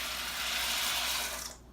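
Hot water poured slowly into a pot for cooking macaroni, a steady rushing splash lasting nearly two seconds before stopping abruptly.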